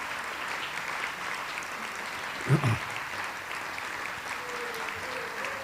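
Audience at a special town meeting in Canton, Massachusetts applauding for Alan Hines, a sustained even round of clapping from a large hall with a short voice cutting in midway.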